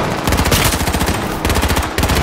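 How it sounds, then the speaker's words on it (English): Loud, rapid gunfire in the survival shooter H1Z1, dense rattling volleys with two brief gaps, close and dominant with no talking. "This dude's hit me from there with a shotgun?"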